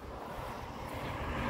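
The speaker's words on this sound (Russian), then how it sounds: "А на улице ветрено. Ветер просто сумасшедший." Strong, gusty wind outdoors on a walk with a dog near a road, a continuous loud low rumble of wind buffeting the microphone with no voices.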